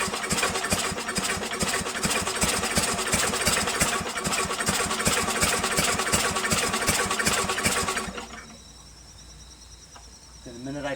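A Craftsman two-stage push snow blower's small engine runs on choke with a steady, rapid, buzzing chatter close by, then abruptly cuts out and dies, leaving near silence.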